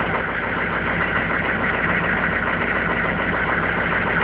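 A 1995 Chevy 2500 pickup's 6.5-liter turbo diesel with 235,000 miles idles steadily after a cold start, a loud, continuous rough clatter close by with no talk.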